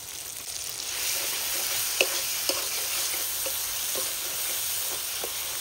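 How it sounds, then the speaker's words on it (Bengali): Ginger garlic paste frying in a pan: a close, steady hiss of sizzling oil with a few sharp clicks of a spatula stirring against the pan, no voices. "এখন সুন্দর করে একটু ভেজে নেব। এখন দিয়ে দিচ্ছি আদা রসুন বাটা।"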